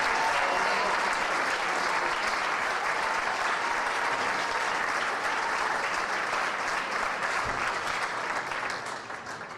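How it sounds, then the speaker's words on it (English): A gala dinner audience at a Rotary district Gift of Life event gives a round of applause, a loud, sustained roar of many hands clapping together that holds steady and then tapers off at the close. "let's give her a round of applause"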